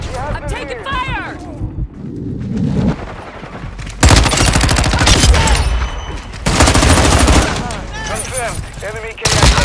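Gunfire in a video game: loud, close bursts of rapid automatic fire in several long stretches, with voices calling out between and over the shooting.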